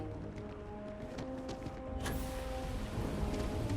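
A thunderstorm in the video game Starfield: steady rain hisses over a low rumbling bed, joined by a swelling roll of thunder around the midpoint, with faint tonal game sounds underneath.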